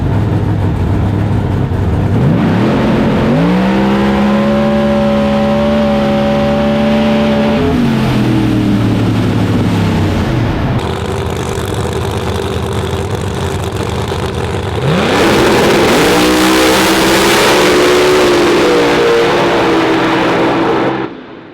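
Ford Mustang and Chevrolet Camaro drag racing cars at a PDRA event in Virginia, heard from inside the car: loud engines idle and rev, rising in pitch with throttle blips, then a sustained roaring pull near the end.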